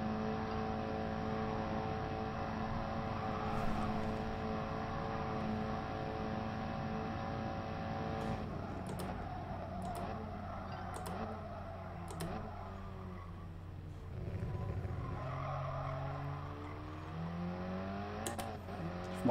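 Race car in the Gran Turismo Sport video game running flat out, a steady high engine whine with sweeping pitch shifts through gear changes and a few clicks, quiet and continuous with no talking.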